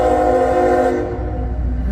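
A westbound CSX intermodal freight train passes at night in North Baltimore, its horn blaring loud and steady in a sustained chord that cuts off midway, leaving the low rolling rumble of the wagons.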